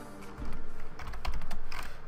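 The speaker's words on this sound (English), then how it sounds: "best typing ever" Rapid clattering keystrokes on a computer keyboard, typed in quick uneven bursts at close range with no voices, during a Survival Island Minecraft session.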